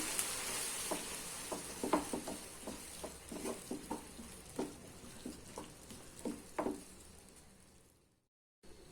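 Thick tomato paste with salt bubbling and spluttering in a pan, with irregular soft pops and spits over a low steady sizzle, close by.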